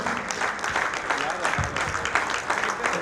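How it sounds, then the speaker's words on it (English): Applause from a crowd greeting a speaker on stage at a padel Club World Series finals day in Dubai: dense, steady clapping for about three seconds, mixed with crowd chatter and voices. "Can we have a round of applause,"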